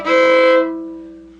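A single strummed guitar chord, played after shifting the fingers over by one string, ringing out briefly and fading with no talk.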